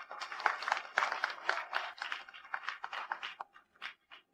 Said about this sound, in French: accueillons les jeunes mariés sous un tonnerre d'applaudissements